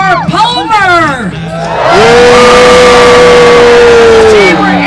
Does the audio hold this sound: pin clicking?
no